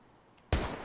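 A single sudden, loud gunshot blast from a police-and-robbers apocalypse game in Minecraft breaks a quiet background and decays briefly.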